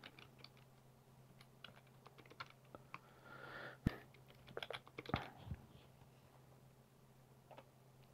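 Password typed on a computer keyboard during a Fedora 26 Alpha user setup, a quiet run of close, uneven key clicks with a couple of sharper taps, no talking.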